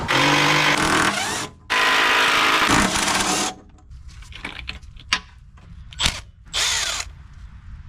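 A power tool whirs loudly in long near bursts as an old truck skid plate is taken off, then stops and is followed by scattered metallic clinks and brief short revs.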